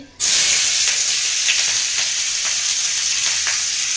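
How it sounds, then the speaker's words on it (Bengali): Chopped onion hitting hot oil with nigella seeds in a pan, a sudden loud burst of frying that settles into a dense, continuous close sizzle, with no talking. "এবার একে একে আমি দিয়ে দেবো পেঁয়াজ কুচি"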